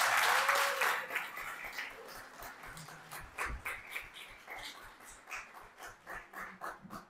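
At a live concert by a Haitian band in Ottawa, a crowd bursts into loud applause that soon thins into slower, rhythmic clapping from fewer hands.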